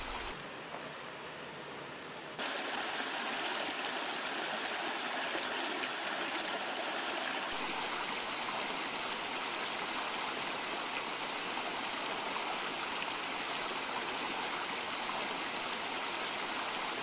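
Steady broadband rush of creek water flowing along Bear Valley Creek beside lush streamside vegetation on the Bear Valley Trail at Point Reyes National Seashore, continuous and fairly close, rising fuller after a quieter opening moment.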